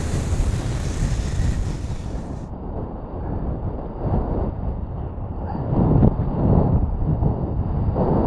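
Strong wind roars across the microphone while wing foiling on open water in extremely cold weather, a steady loud buffeting rumble with wave and water wash beneath, swelling slightly near the end.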